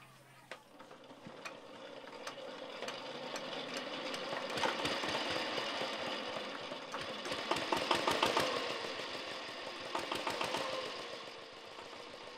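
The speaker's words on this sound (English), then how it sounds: "a farm tractor begins to rattle from inside this pig pen" A modified three-wheeler farm tractor engine rattles inside a pig pen in Cambodia at dusk, run to generate electricity; a steady mid-pitched chugging with rapid knocking pulses that grow louder and denser toward the middle, no voices.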